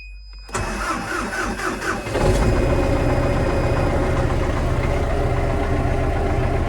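An MTZ 892 tractor engine with about 2019 hours is started: a brief starter crank churns, the diesel catches after about two seconds and settles into a loud, steady idle close by.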